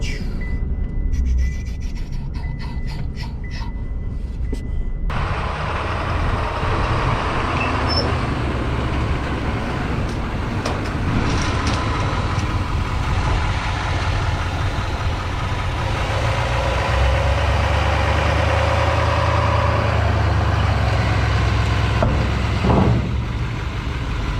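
Ram ProMaster van engine running loud and close, a steady broad rumble with a brief rising rev near the start, no talk.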